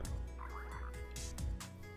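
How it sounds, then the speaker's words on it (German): Frogs croaking in Minecraft, a rippling run of game croaks with a few low thumps, steady and fairly close over a constant low game ambience, no talking. "Ich höre Frösche"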